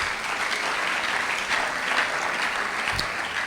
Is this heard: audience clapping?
yes